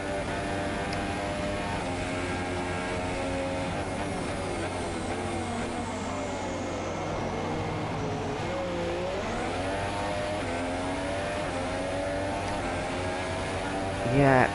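Race cars at the Austrian Grand Prix, including a McLaren and a Ferrari, roar continuously at high revs with shifting engine pitch, loud and sustained throughout.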